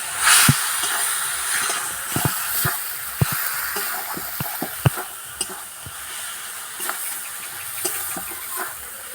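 Turmeric-laced spice paste fries in a pan for a jackfruit and prawn curry, with a constant sizzle and hiss broken by sharp scrapes and taps of a spatula stirring against the metal.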